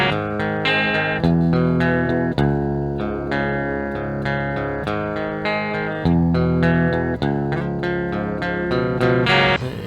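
A song is strummed on a homemade aluminum Veleno-style electric guitar fitted with Guild pickups, chords ringing with bright, slightly distorted sustain and repeated picked attacks, played alone and close.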